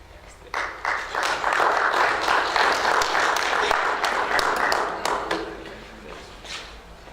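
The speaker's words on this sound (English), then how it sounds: "Shall we give him another good round of applause?" An audience at an international education conference applauds steadily for several seconds, a dense clatter of many hands that swells quickly, holds, then thins out and trails off.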